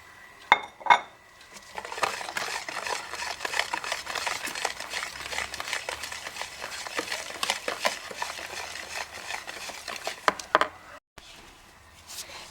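Tangerine cake batter stirred in one direction in a bowl with a utensil, giving irregular clinks and scraping taps against the bowl that go on for several seconds, with a few sharp knocks near the start and the end.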